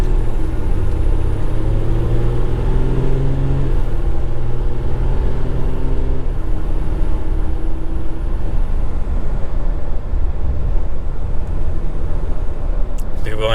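Inside a RAM Ecodiesel 1500 turbo diesel pickup truck on the move, a low, steady engine and road rumble fills the cabin while someone talks over it.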